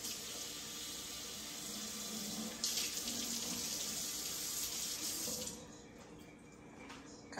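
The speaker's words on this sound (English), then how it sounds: "let me rinse this off." A kitchen tap runs steadily into the sink as food is rinsed, a close, continuous splashing rush that briefly grows louder midway, then the flow is cut and a few small knocks and drips follow.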